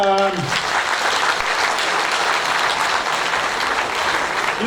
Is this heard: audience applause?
yes